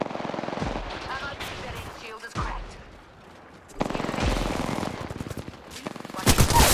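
Gunfire in the Apex Legends video game: bursts of rapid automatic fire in loud, dense stretches broken by a short lull, with a player talking over it.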